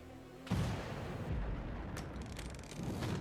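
A solar ignition blast in the Destiny 2 video game goes off as a sudden loud boom, then a rumbling, crackling tail with a few sharp pops and a renewed swell toward the end.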